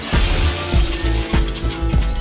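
Glass shatters repeatedly in the video game The Sexy Brutale, four sharp crashes evenly spaced about half a second apart, each with a bright tinkling tail, loud and close with no talking.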